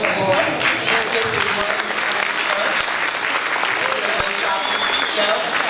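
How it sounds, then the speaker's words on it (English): Sustained, dense applause from an audience at a school winter holiday chorus concert, loud and steady throughout with crowd noise and some voices mixed in. "a big round of applause for our shining stars"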